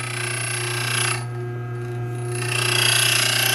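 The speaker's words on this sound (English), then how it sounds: "crank it until I can hear the stones grinding together" A hand-cranked grain mill grinding wheat berries between its stones on a finer setting, a continuous close mechanical whir with a low hum that dips briefly midway.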